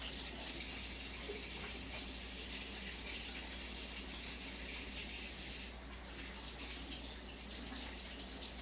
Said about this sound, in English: Give my hands a good wash.